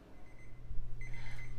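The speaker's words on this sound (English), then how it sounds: "our timer's going off after an additional 2 minutes" A kitchen timer on a farm sounds while chocolate chip cookies bake, giving a short high electronic beep and then a longer run of quick repeated beeps, close and clear over a low room hum.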